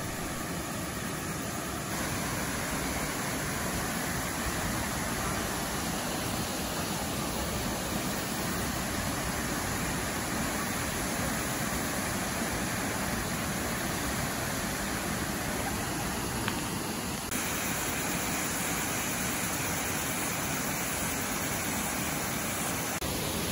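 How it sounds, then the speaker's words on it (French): Waterfall cascades in the Bay of Islands, New Zealand pour in a continuous, even broadband rush, fairly faint and steady from start to finish. "Je vous laisse en méditation sur ces cascades magnifiques."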